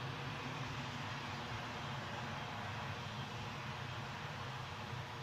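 A British Airways jet taxis at Newcastle airport, its engines a steady, moderately distant rumbling roar mixed with broadband hiss, holding level throughout.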